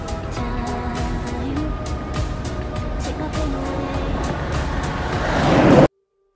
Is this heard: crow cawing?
no